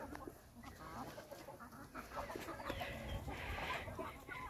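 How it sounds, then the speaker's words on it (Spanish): Hens in their enclosure give scattered, low clucks and short murmuring calls over a faint background hum, with several birds overlapping softly at a quiet level and no talking. "vamos para acá a ver las gallinitas"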